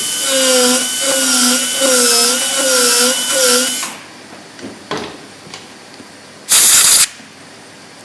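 A dental bur drill cutting retention grooves in a molar for a Class V cavity, with a loud high whine that pulses through several short bursts, then quiet with faint clicks and a brief hissing spray near the end.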